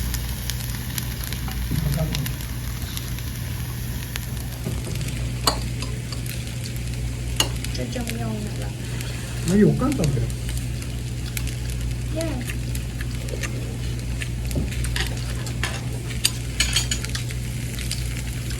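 Food sizzles steadily on a hot plate at a Korean restaurant, a constant frying hiss with occasional clinks of cutlery, while diners talk softly over it.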